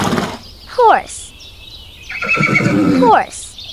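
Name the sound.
horse neighing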